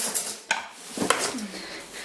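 Kitchen utensils rummaged through to grab a big wooden spoon, a few close clattering knocks and clinks of spoons and tools bumping together, short and uneven, no talk.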